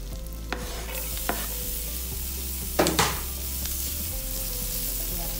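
Garlic sizzles in a hot pan with a steady frying hiss, broken by a few sharp utensil clinks and scrapes as it is stirred, heard close up.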